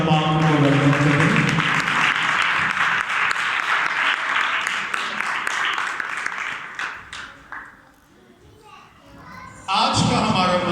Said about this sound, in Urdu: زوردار تالیاں بجا کر خدا پاک کو ویلکم کریں